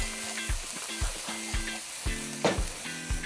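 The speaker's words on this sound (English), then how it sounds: "We go in onions, nice and easy. Give that a bit of a shake." Onions dropped into hot sauce in a pan on a wood-fired kitchen setup, with a steady close sizzle and frying crackle that swells as the pan is shaken, no voices.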